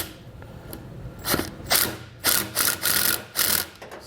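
An Allen key tightening the air spring bracket of a Firestone Ride-Rite air helper spring on a 2022 Chevrolet, giving close metallic ratcheting clicks in several short bursts that grow more regular toward the end, with no talk.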